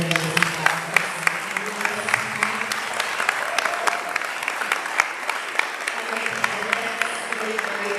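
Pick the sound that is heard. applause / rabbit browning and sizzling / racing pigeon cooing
applause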